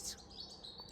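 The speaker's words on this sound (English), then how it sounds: "that really strident descending, that's a tree creeper" Treecreeper singing at dawn at Sculthorpe Moor Nature Reserve, a brief, thin, high chirping phrase sounding fairly faint and distant, with no talking.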